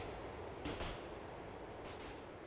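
Train ride in the video game Grand Theft Auto IV: a steady, loud rumble of rolling carriages with two brief brighter rattling swells, no talk over it.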